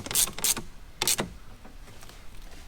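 A ratchet tightens the mount of a dual battery system in a Toyota 200 Series, giving a few quick close clicking bursts followed by quieter faint rattling.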